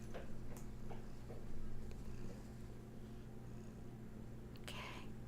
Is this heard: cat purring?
yes